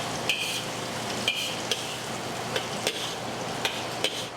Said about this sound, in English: And then you'll stir that around